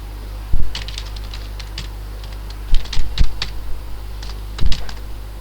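A computer keyboard is typed on in irregular clusters of light clicks and taps, close to the mic, over a steady low electrical hum.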